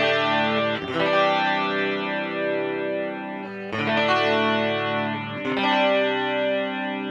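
Electric guitar through an MXR Rockman X100 on its bright Clean 2 setting, compressed and EQ'd, with three sustained strummed chords ringing out one after another, each chord decaying slowly with a glossy, bright, compressed shimmer.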